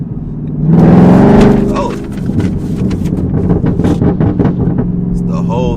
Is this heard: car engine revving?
yes